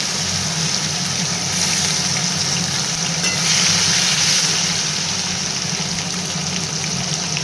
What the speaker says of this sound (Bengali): মাছের তেলের মধ্যে কালো জিরে কাঁচা লঙ্কা আর কিছুটা টমেটো কুচি দিয়ে দেব দিয়ে একটু নেড়ে চলে নেব